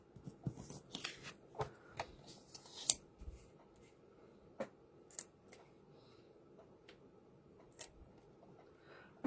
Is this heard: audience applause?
no